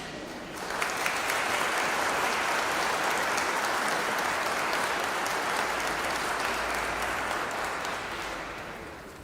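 Sustained applause from a conference audience greeting the director at the opening ceremony of the Sarajevo Security Conference, a dense, steady wash of clapping that swells in after a brief pause and holds loud throughout, tapering slightly at the end.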